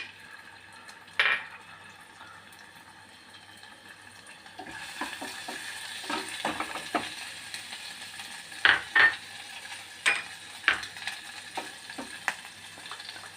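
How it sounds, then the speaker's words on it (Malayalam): Onion, ginger and garlic sautéing in two spoons of oil give a soft steady sizzle, broken by scattered scrapes and clinks of a spoon against the pan, with no talking. "ഉള്ളി ഇതെല്ലാം ഒന്ന് വാട്ടിയെടുക്കാം."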